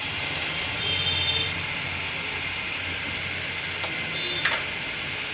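Eggplant pieces frying with tomato in a pan for a curry, giving a soft continuous sizzle with a couple of brief utensil scrapes and clicks, fairly quiet and steady throughout.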